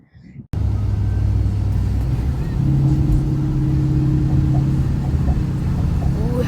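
A truck hauling a log splitter on the road, its engine rumbling steadily and loud close by after a brief quiet start, with a low drone rising partway through.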